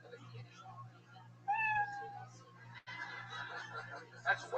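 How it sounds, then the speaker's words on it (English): A recorded cat meow rings out as a time-up signal at a stage performance, one clear, fairly loud mew standing out over a low hum and background chatter, with a few fainter sounds after it. "You know your 60 seconds is up, performers. You hear the sound of a kitty."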